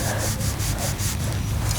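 Scraping lines into golf bunker sand along alignment sticks, a rhythmic series of close rubbing strokes, about six regular sweeps, gritty and continuous, with no talk.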